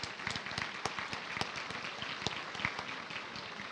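Faint, distant applause for graduates at a University of London presentation ceremony, a thin patter of scattered claps spread across a large hall.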